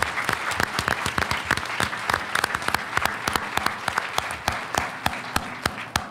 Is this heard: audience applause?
yes